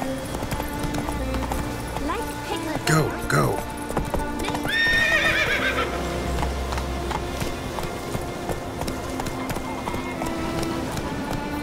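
Horse in The Witcher 3 video game galloping with rhythmic hoof clip-clops and a clear neigh partway through, over steady game background sound and a brief voice.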